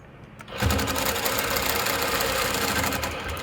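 Longarm quilting machine stitching in the ditch on customer piecework starts abruptly and runs a steady, rapid mechanical whir with rhythmic stitch pulses, close and loud, no voices.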